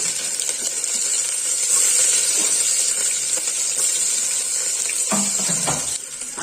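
Cumin and mustard seeds, then onions, dropped into hot oil for a beans curry, give a steady loud sizzle with brief crackles and a few clinks, with no voices.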